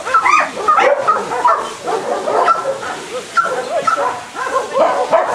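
Several dogs in a kennel's free-run area barking, yipping and whimpering in quick overlapping bursts, close and lively throughout.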